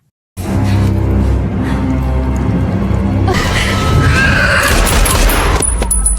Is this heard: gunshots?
yes